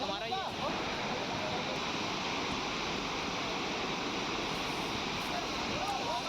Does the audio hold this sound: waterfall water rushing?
yes